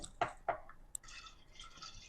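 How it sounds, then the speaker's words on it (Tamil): Water being added over soaked moong dal in a pressure cooker, heard as a few quiet drips and splashes followed by a soft, steady trickle of filling liquid, close by and alone. "தண்ணி அது மூழ்கிற அளவுக்கு தண்ணி சேர்த்து"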